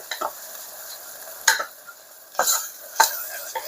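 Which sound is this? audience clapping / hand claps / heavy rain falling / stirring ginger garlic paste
stirring ginger garlic paste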